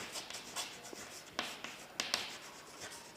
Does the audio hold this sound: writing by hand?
yes